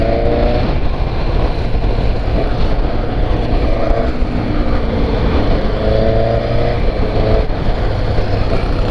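A Suzuki GSX-S 750 motorcycle rides through dense São Paulo traffic, its engine droning steadily and loudly up close with small rises in pitch, amid road and wind noise.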